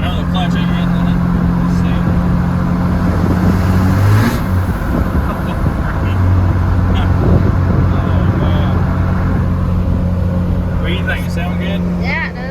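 A green cabover truck's engine idles loud and steady, a rough low rumble that holds throughout with a few brief revs and shifts in pitch.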